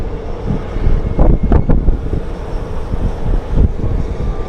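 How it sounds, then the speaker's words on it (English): Strong wind gusts at a stadium construction site with cranes working, buffeting the microphone in a continuous low roar that swells in a few louder bursts. "The wind, it kicks up and then it just kind of catches you by surprise."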